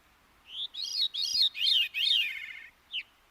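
A veery sings a clear, close, ethereal song of several rapid descending spiraling phrases with overlapping rising and falling tones, ending in a short separate note, against quiet surroundings.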